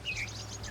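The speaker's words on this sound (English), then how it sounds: "you're gonna listen to the birds" Brief high chirps from a bird in Puerto Rico, a couple of quick notes over a low steady hum.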